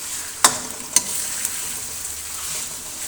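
Chicken fries in a karahi for achari chicken, a loud, steady close sizzle with two or three sharp clinks of a utensil early on, then uninterrupted frying with no talking.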